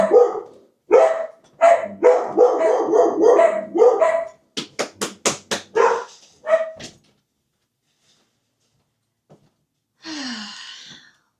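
A dog lets out a burst of loud, close barks in quick succession that taper into shorter yips, then goes quiet before a final brief whine.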